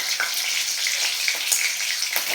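Green and dried chilies, bay leaf and nigella seeds crackle in hot oil, a dense close sizzle with small pops and spits, brief and steady, no talking.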